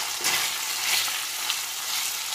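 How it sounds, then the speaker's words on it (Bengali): Chicken frying in a pan with chopped ginger, garlic and green chilli, a steady close sizzle with brief bursts of stirring, no voices. "এর মধ্যে আমি কুচো করা আদা, রসুন আর কাঁচা লঙ্কাটা দিয়ে দেব, মিশিয়ে নেব। কিছুক্ষণ এটাকে ভাজতে হবে।"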